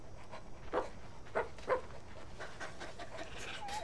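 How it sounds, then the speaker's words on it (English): A dog pants in the video game Hello Neighbor 2, giving a few quick close breaths and small whimpery yelps over a quiet background, with no talking. "To your left there should be a dog."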